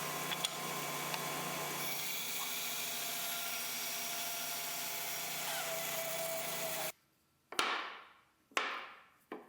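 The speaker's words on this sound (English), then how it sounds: "Here I'm cutting away material to create 4 individual feet" Steady, loud power-tool whine as wood is cut away to form four feet on a work support stand, running continuously before stopping, followed by two sharp separate scraping strokes.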